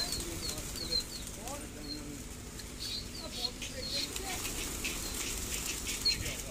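Pigeons flapping their wings during a kabootarbazi pigeon-flying session in Delhi, fluttering wingbeats in short bursts over a busy outdoor background, with someone talking throughout and faint bird calls.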